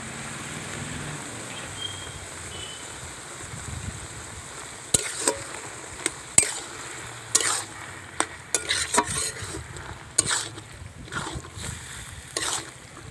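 Prawns tossed into taro greens frying in a pan, with a steady low sizzle and a series of loud, irregular scrapes and clatters of stirring in the second half.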